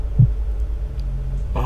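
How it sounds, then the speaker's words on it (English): A heartbeat in a horror video game, heard as a single low thump early on, then a faint low hum before a louder burst of sound at the end. "You heard my heartbeat."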